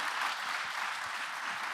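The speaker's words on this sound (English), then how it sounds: "Can everyone please give a big round of applause to Secretary Turner?" Sustained applause from a seated audience at a housing supply summit, a dense, even wash of many hands clapping steadily throughout with no voices on top.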